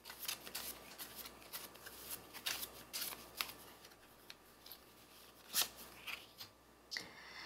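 Tarot cards are shuffled up close in a quiet room, producing repeated riffling bursts and soft flicks in an uneven rhythm with short pauses between.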